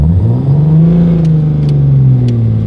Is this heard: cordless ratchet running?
no